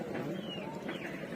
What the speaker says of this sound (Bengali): এটা হচ্ছে ইন্ডিয়ান ফ্যান্টাইল, যেটাকে আমরা সাধারণত ময়ূরপঙ্খী কবুতর নামে চিনি।